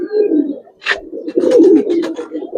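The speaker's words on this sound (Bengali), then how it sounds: "এটাও ভাই সেমই অবস্থা, হাতেই ডাকে ভাই" An old-breed pigeon held in a hand gives repeated throaty coos up close, loud and rhythmic, with a brief flutter-like burst between them.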